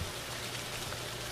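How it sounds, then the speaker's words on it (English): Steady, dense hiss of rain falling in the horror video game Aka Manto, loud and close, with no voices. "I love the sound effect from the rain."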